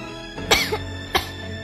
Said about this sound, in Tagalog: palagyan na lang po ng sound yung ubo